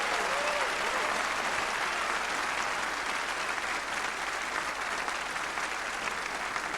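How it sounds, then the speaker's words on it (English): Steady, dense applause from a crowd at a snooker match, loud and sustained for the whole stretch without a break. "As the crowd erupts."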